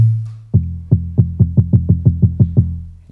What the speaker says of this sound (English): kind of a sub-bass kick